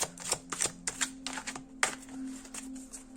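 Tarot cards being shuffled by hand, a quick series of crisp riffling snaps and flutters repeating about every half second, close and fairly quiet over a faint steady hum.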